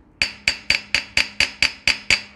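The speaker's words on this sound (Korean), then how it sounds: "이렇게 망치로 두드려셔도 됩니다" A hammer taps an alloy car wheel that has been heated with a torch, striking nine times in an even, steady rhythm. Each hit is a sharp, ringing metallic clink, close and clear with no talk.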